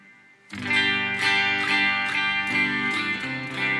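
Chords on a 2015 Gibson SG Standard electric guitar with coil-split pickups, a thinner, bright tone, strummed loudly and sustained over several seconds with no talking.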